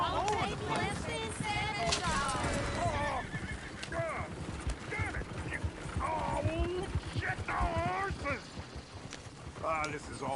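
Horses in the video game Red Dead Redemption II clip-clopping steadily along with a coach, hooves thudding in a quick rhythm while whinnies cut through and characters talk over the hoofbeats throughout.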